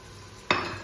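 Onions for carp soup hit a hot pot and burst into a sudden sizzle halfway through, following a near-silent start and holding a steady frying hiss to the end.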